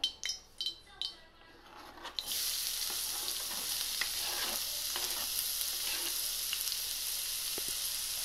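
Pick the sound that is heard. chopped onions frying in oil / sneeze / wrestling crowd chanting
chopped onions frying in oil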